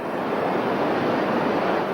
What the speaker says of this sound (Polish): Jesteśmy nad Niagarą, nad wodospadem.